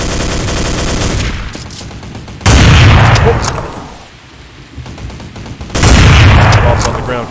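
Counter-Strike 1.6 gunfire rattles in loud, dense bursts of rapid shots, two sharp onsets with a lull between, mixed with game radio voices calling out.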